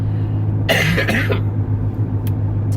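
A single harsh cough burst close to the microphone, over a steady low engine hum.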